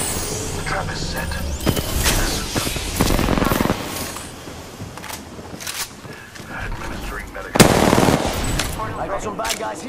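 Bursts of automatic gunfire in the shooter game Apex Legends, rapid volleys clustered around the first half and a loud burst near the end, with game voice callouts over the firing.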